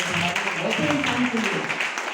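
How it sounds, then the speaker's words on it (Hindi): Audience applause from a crowd, a dense, steady wash of clapping that carries through the whole stretch, with a voice speaking faintly underneath. "एक जोरदार ताली तो बनती है"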